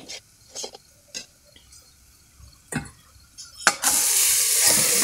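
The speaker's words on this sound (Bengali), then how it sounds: "মিডিয়াম জাল রেখেই নাড়াচাড়া করে আলু ডিমটা ভাজি করে নিল" Potato and egg fry in oil in a wok over medium heat, with scattered scraping stirs of a spatula, then a loud steady sizzle bursts out close up near the end.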